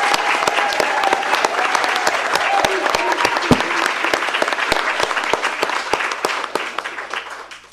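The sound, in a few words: audience applause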